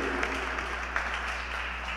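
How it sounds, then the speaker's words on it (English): An audience at a Brooklyn Tech Week live-streamed event applauds entrepreneurs, a steady but fairly quiet wash of clapping over a low hum. "Let's give a round of applause for our entrepreneurs."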